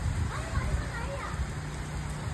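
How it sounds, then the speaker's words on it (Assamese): Heavy rain pours down outside in a steady, dense hiss with no breaks, fairly close and constant throughout, with a low rumble underneath. "গাইস ইমান বৰষুণ দিছে"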